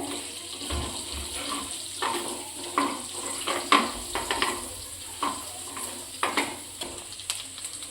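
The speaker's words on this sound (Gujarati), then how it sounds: "હવે આપણે આમાં લસણ નાખી દઈશું. લસણ થોડો કલર બદલાય ત્યાં સુધી આપણે સોતે કરવાનું છે આને." Garlic sautéing in oil over a low flame, a soft steady sizzle with a few light spoon taps and stirring clicks, close but fairly quiet, with no talking.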